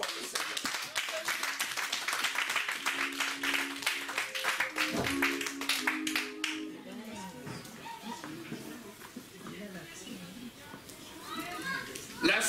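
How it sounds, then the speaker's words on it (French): A church congregation claps and cheers in praise, a dense burst of applause with voices and children's chatter that fades into murmuring crowd noise and scattered talk. "Acclamons très fort le Seigneur."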